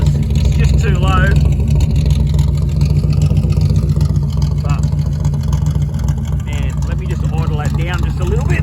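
A Holden Torana's engine rumbles loud and steady through a low exhaust, with a few rising revs, while someone talks over it throughout.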